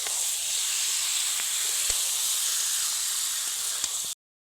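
Chana paneer being sautéed in a wok, giving a continuous even sizzling hiss with a few faint clinks over about four seconds before it cuts off abruptly.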